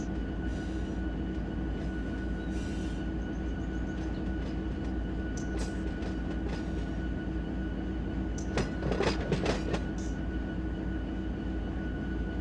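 Locomotive rounding a curve in Run 8 Train Simulator v3, a steady low rail rumble throughout with brief metallic squeals and clatter near the end, no talk.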